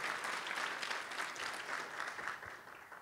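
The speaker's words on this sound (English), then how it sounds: "So if we could give them a round of applause" Meeting attendees at an academic affairs fall meeting give a round of applause, a dense and fairly soft wash of clapping from a crowd, steady from start to finish.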